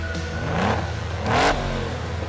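A 1988 Lamborghini Countach 5000 QV engine revs up twice in quick succession, each rise swelling loud and close before falling back to a rumbling idle.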